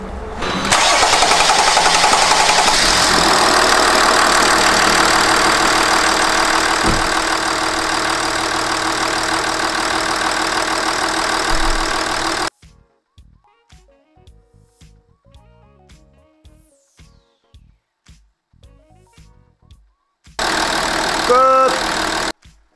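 A Hyundai Veracruz engine, which has failed glow plugs, cranks and starts with a loud rough roar, then settles into a harsh idle for about twelve seconds. Quiet clicks and knocks follow before a brief second burst of engine noise.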